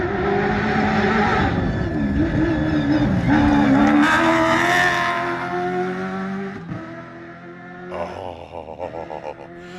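A Ford V8 race car at the Dakar 2025 rally roars loudly and close, engine revving up and down with tire squeal, then easing off and fading toward a rougher, quieter idle near the end.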